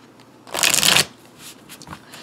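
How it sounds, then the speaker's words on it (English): A deck of oracle cards is riffled in one quick, crisp shuffle up close, followed by a few soft card taps and handling sounds. "these are obviously going to need to be well shuffled"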